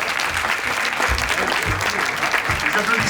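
Festival crowd applauding as a performer makes her way to the stage, a continuous roar of clapping with low thumps and crowd noise mixed in.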